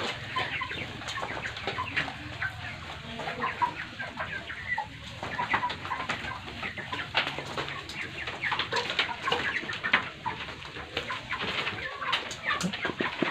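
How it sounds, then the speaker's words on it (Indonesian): Large farm chickens clucking and squawking in a yard, a continuous busy chorus of overlapping calls nearby, with no talking. "ini ayam yang biasa diomongkan bahwa besar sekali ayamnya"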